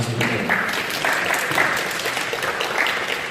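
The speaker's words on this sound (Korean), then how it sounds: "하실 수 있으면 박수 부탁드릴게요" Audience applause at a Korean musical production press event in a Seoul hall, greeting supporting actors as they come on stage; steady clapping fills the whole stretch at an even level.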